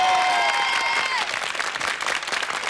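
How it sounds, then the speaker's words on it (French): A live television audience applauds Stanley Bond at a prank-show taping, steady broadband clapping that starts under a fading tonal sound and then carries on alone, dense and fairly close. "Je vous demandais d'applaudir Stanley."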